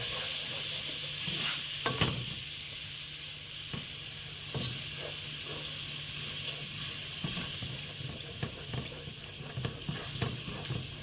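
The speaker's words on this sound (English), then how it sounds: "Keep on stirring" Milk being stirred into a cooked flour mixture in a pan for pumpkin soup: a continuous gentle sizzle and hiss with scattered soft scrapes and taps of a spoon, steady and close, without any talking.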